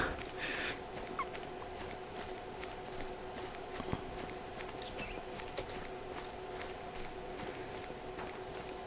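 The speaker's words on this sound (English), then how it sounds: "when I first heard him growling" A pet dog growls in a low, steady rumble that runs for the whole stretch at moderate loudness, with a few faint clicks over it and no one talking.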